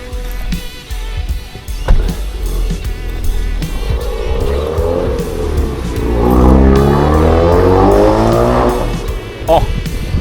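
A car accelerating hard near a place for buying wrecked wheels, with the engine note climbing loudly in pitch over several seconds, close by, with people talking around it.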